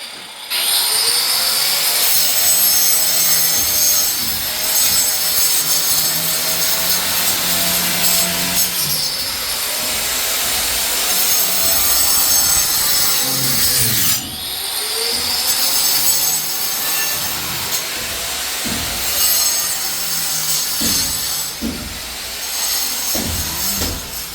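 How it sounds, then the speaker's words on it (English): A DeWalt angle grinder cuts through metal window guards with a loud, continuous abrasive whine, close by. The cutting dips briefly around the nine- and fourteen-second marks and is followed by a few sharp knocks near the end. "we use the grinder to mark and cut"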